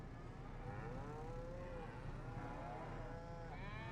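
Cattle in Farming Simulator 25 moo in long, drawn-out calls, several overlapping and wavering, layered over a steady farmyard ambience with no talking.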